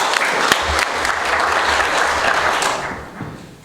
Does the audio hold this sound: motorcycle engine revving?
no